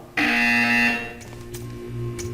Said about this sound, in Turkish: When you hear the buzzer, stare at the art.